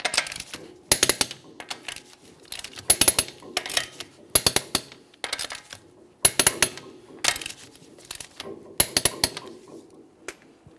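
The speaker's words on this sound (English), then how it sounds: "we'll torque each of our lug nuts in a crisscross manner to that 100 foot-pounds" A torque wrench tightens the lug nuts on a 2014-2018 Mazda 3 wheel, making a series of sharp metallic clicks in short clustered bursts with brief pauses between them, close and crisp.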